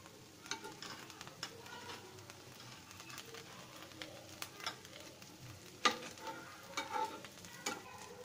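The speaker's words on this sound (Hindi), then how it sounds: "अब मैं इसको चारों साइड से पलटे से आराम से निकालूंगी और इसको धीरे से पलट दूंगी।" A rava (semolina) dosa fries in oil on a pan while a spatula loosens and flips it. A soft, faint sizzle runs underneath scattered scraping taps and clicks.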